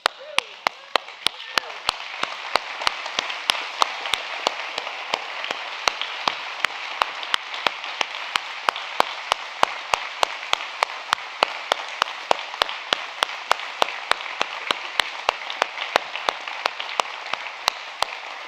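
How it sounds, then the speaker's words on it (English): A standing audience at a community event applauds in memory of a man named Terry, a long, even wash of many hands with a steady rhythm of sharp claps running through it for nearly twenty seconds. "would you all please stand and give him a round of applause?"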